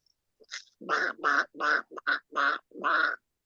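A person mimics a duck call, producing a close, clear run of about seven nasal quacks in quick, even succession with no other sound around them.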